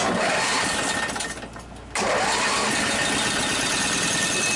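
A small twin-carburetor engine with dual chokes roars steadily, dips briefly as it sputters, then catches and runs again at a loud, even drone, up close.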